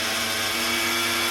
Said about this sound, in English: This is how it looks after I have done a fine grinding using my coffee grinder